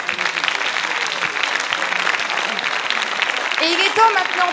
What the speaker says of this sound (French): Je pense que vous pouvez les applaudir pour les encourager rien que pour cela.